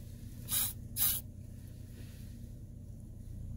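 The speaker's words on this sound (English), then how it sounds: "I'm going to spray it outside too and smell it" Two short hissing bursts from an aerosol air freshener spray, close and fairly loud, followed by quiet background noise.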